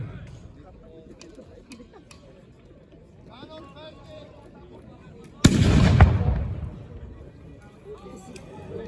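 A cannon fires at a reenactment of the 1793 assault on Arlon, Belgium, a single loud, close boom that rolls away after quieter crowd noise and scattered small pops.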